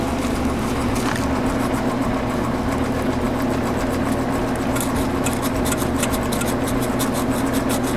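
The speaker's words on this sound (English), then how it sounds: "I'm going to try and sand them little points" Small metal points of a thermocouple connection are sanded, a continuous rasping rub with faster scratchy strokes later on, steady and close over a constant low hum.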